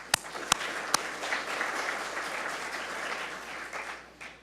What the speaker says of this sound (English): One last round of applause for all the sponsors.